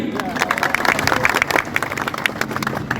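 Crowd at a political rally in Kozhikode breaks into loud, dense clapping and cheering that rises and falls in waves, with voices mixed into the applause.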